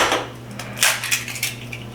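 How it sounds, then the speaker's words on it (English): Two eggs are cracked into a bowl, heard as a couple of close, sharp clinks and taps over a steady low hum. "next we're going to crack 2 eggs into a bowl"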